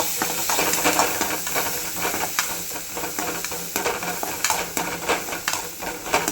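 Steady hiss and crackle of chopped onions frying in hot oil, with occasional stirring scrapes and clatter, close up and without voices.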